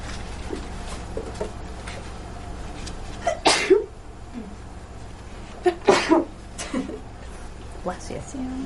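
During a lecture on women's lives in the Civil War era, a person in an indoor room sneezes twice, each sneeze a sharp, close burst a few seconds apart. Quiet room noise and faint vocal sounds fill the gaps.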